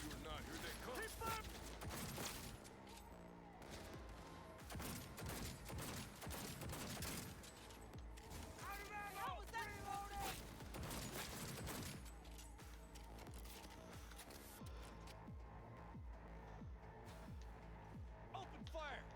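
Gunfire in the video game Cyberpunk 2077: loud bursts of shots and clattering fire through a busy game mix with music and effects, and a voice talking over it.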